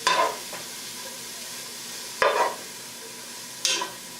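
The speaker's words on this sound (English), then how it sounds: "We're going to stir it around a little bit. I'm going to cook this for a couple of minutes" Food frying for coq au Riesling, a steady close sizzle in a pan broken by three distinct stirring scrapes, one at the start and two more a couple of seconds apart.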